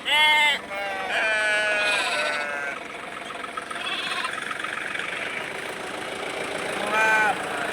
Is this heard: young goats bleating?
yes